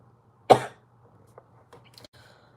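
A single sharp cough close to the microphone during a livestream, followed by faint rustling and small mouth noises in a quiet room.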